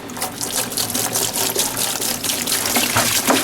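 Windshield washer fluid glugs from a jug into a tractor tire for ballast, a steady, fairly loud liquid pour with gurgling and splashing throughout, no voices.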